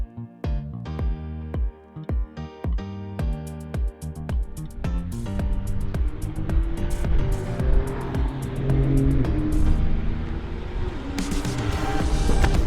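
A 450-horsepower Porsche 992 Carrera S engine revs hard through the gears on a track, up close, with sharp rising and falling bursts that build into a sustained roar.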